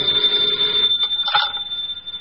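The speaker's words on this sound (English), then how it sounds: "when the phone rang" A telephone rings in an old-time radio detective drama, a steady bright electric bell tone sounding once with a short burst near the end, fairly close and alone with no voices.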